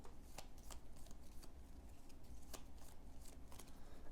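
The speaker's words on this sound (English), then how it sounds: "Shuffle them up for stage 2." A deck of game cards for an Eldritch Horror setup being shuffled, several quick riffling bursts repeating at irregular intervals, close and quiet over faint room noise.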